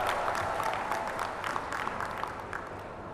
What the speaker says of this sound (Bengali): তাদের জন্য জোরে একটা হাততালি দিয়ে আমরা তাদেরকে অভিনন্দন জানাচ্ছি